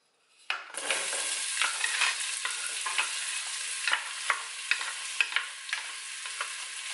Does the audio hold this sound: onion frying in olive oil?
yes